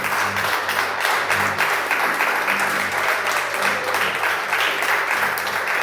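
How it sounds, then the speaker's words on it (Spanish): Church congregation applauding together during an evening service, a steady sustained wash of clapping filling the room with no speech over it. "Den un aplauso al Señor entonces en esta noche."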